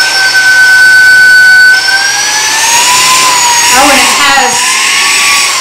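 A 3-in-1 cordless vacuum cleaner with its floor attachment fitted runs with a steady high motor whine whose pitch shifts partway through, close by, while a person talks over it.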